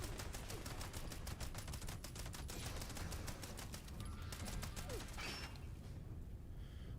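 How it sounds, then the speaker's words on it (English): Rapid bursts of automatic gunfire aimed at the player in a video game, a dense rattling volley of sharp shots that runs steadily for several seconds before thinning out and trailing off. "Who's shooting me?"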